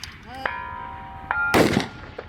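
A single sharp, loud rifle report rings out at a precision rifle match, close by, with some fainter tonal noise and a small knock before it.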